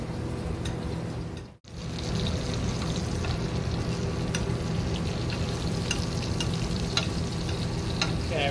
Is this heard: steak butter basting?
yes